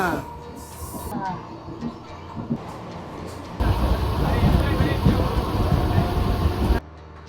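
Busy Thane railway station noise with a loud rumbling train and hissing brakes, people talking nearby amid the steady din.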